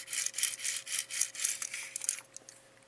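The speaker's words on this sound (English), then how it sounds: "you can really hear all those casters rolling" Small caster wheels on a Micromaster toy roll across a mouse pad, giving a steady, close, gritty rolling rasp in repeated surging strokes, loud and alone with no voices.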